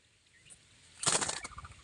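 A jungle babbler flaps its wings as it leaves its nest, a brief close burst of fluttering wingbeats that rises suddenly and trails off over about a second, with no voices.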